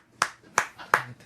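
Four sharp hand claps from a few people, evenly spaced and fairly quiet, ringing out in a room during a Korean film-review chat about the movie Network.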